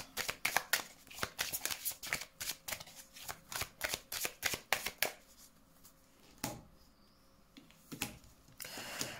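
Tarot cards being shuffled for a reading, with a rapid run of crisp riffling flutters and slaps, close and fairly loud, pausing briefly before a few more shuffles near the end.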